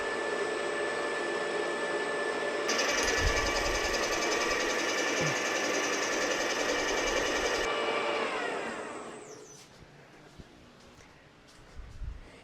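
A surface grinder works a shop-made bed table, its loud, steady whining hiss running several seconds before winding down to quieter shop noise with a few faint clicks.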